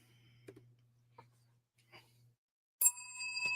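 A single bell rings out sharply near the end, a bright ringing tone that lingers and decays after a quiet stretch of faint clicks and a low steady hum.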